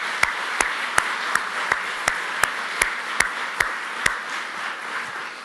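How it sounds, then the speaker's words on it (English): Applause from an audience at a political rally honoring military veterans, a steady crowd clatter punctuated by regular sharp, loud claps close by, roughly two or three per second, with no talking. "Let's give those guys a round of applause."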